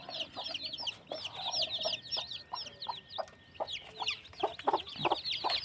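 Hens cluck and chirp in a busy, overlapping chorus with quick repeated calls, fairly close, over a soft background hiss.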